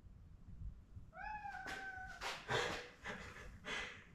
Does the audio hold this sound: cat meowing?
yes